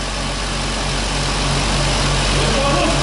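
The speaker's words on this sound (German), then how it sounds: "Dann lauschen wir mal dem schönen Motörchen." An Opel Manta engine idles on a dynamometer, a steady low rumble holding close and even throughout with no break.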